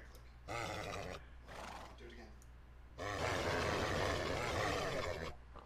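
A horse in the Minecraft video game neighs and grunts in two harsh, rasping bursts, the second one longer and louder. The sounds come close and loud in game audio.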